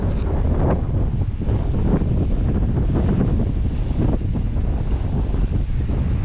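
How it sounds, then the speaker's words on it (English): Strong coastal wind batters the microphone during sea fishing, a loud continuous roar with gusting surges and rumble throughout, with no one talking. "But as you can probably hear, that wind is so"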